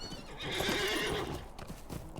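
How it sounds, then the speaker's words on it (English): Galloping horse hooves in the Lord of the Rings Online game, a steady rapid clip-clop close up with a brief whinny, heard alone without talk. "so we'll just hop on our horse"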